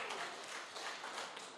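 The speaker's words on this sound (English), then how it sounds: "Big round of applause." A seminar audience gives a round of applause for a business motivational talk, dense continuous clapping heard from a moderate distance, even in level with small swells and no break.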